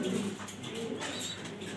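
Grizzle racing pigeons cooing in a loft, a steady low murmur of soft overlapping coos with faint higher chirps throughout, close and moderately quiet with no talk.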